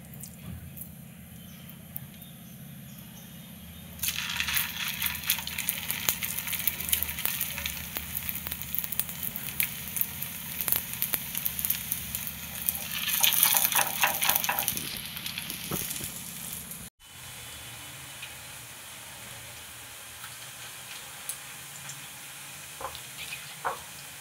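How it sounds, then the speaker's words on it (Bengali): Soybean kofta balls fry in white oil in a pan, giving a loud, steady sizzle and crackle for roughly twelve seconds that then drops to a quieter, faint hiss. "এবারে সয়াবিনের কোপ্তাগুলো ভেজে নেব।"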